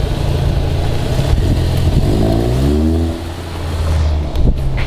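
Volkswagen Golf Mk7.5 GTI with a Remus exhaust and Pipercross intake, heard as a loud, close engine drone that rises in pitch, then dips into a burbling crackle on the gear change before pulling again.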